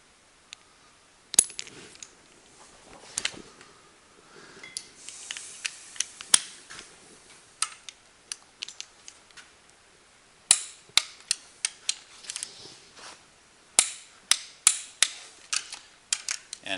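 Torque wrench tightening connecting rod bolts to 73 on a Cummins 12-valve 5.9L diesel engine rebuild, a series of sharp metallic clicks and ratchet ticks, sparse at first then coming in quick repeated bursts near the end, close and without talk.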